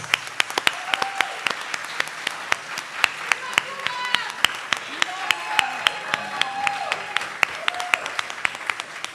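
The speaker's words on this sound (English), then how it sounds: "let's give a huge round of applause for Rafael Gonzalez Morales." A round of applause from an audience at a community panel event against state violence, moderately loud with sharp individual claps standing out, while a voice speaks faintly over it.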